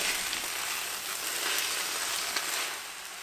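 Spinach wilting in a hot, fairly dry pan gives a continuous bright sizzle with a faint stir now and then, close and steady.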